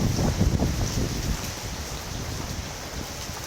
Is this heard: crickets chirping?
no